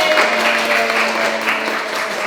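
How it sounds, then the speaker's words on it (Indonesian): Applause breaks out at the launch of a hospital's first podcast episode, a steady, dense clapping from a small group that holds at even loudness for about two seconds. "Ya boleh tepuk tangan."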